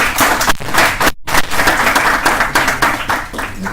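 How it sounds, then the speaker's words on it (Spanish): An audience applauds after a talk at a glaucoma society meeting, with dense, close clapping that breaks for an instant and then carries on steadily. "te damos un aplauso por la brillante charla de"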